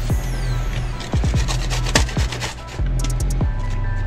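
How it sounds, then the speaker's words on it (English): Fresh ginger being grated for cooking a peacock grouper, a close, rhythmic rasping scrape repeated in quick strokes over a steady low background hum, with no talking. "Next, we're gonna grate some ginger."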